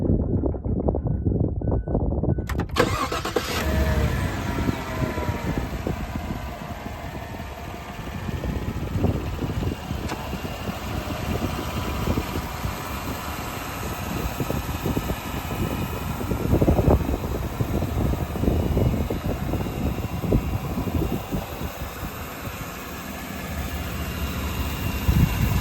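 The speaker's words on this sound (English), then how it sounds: "Here's gonna be a starting video of the motor." A 2019 Tahoe 4x4 with a 5.3 liter V8, police fleet maintained, starts up with a brief burst and settles into a steady, continuous idle rumble that fills the rest of the clip.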